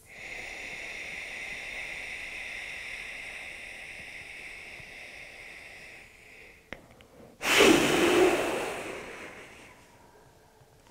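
Steady breathing through a lightly pinched nose with a hand held in front of the mouth, a soft continuous airy hiss for several seconds, then a short louder burst of rushing breath near the end.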